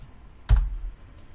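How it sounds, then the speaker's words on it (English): A single brief burst of computer keyboard keystrokes, a close, sharp clatter lasting a fraction of a second amid quiet. "I type in the hash."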